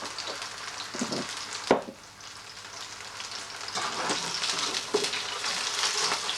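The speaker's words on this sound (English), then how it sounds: "I'll put fish in batter, now I'm frying it" Beer-battered fish frying for fish and chips, a steady broadband sizzle with occasional louder crackles and spits, close and continuous with no voices over it.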